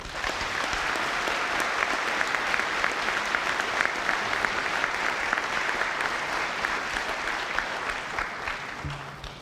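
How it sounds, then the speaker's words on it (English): An audience at an alternative-education graduation ceremony claps for the graduating seniors, a sustained, even wash of applause from many hands that carries on steadily throughout. "Please join me in a round of applause for them"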